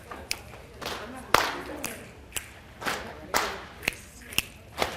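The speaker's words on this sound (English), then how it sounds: "Let's get our rhythm going, guys. It's called the clapping review." A classroom of students clapping a rhythm together, with sharp claps at regular beats and voices talking underneath.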